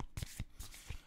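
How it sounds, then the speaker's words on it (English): Tarot cards are pulled and shuffled by hand, giving soft, quick riffling flicks in a brief burst of about five close rustles. "I'm going to keep pulling these cards."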